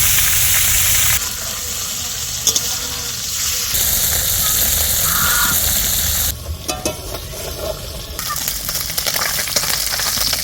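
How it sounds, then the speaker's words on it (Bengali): Fresh morola fish, a small freshwater fish, lightly fried in a pan, a steady broadband sizzle filling the clip, shifting in intensity as the pieces are moved, with faint clattering and some speech-like sounds. "বেশি ভাজবো না একটু হালকা ভেজে দেবো"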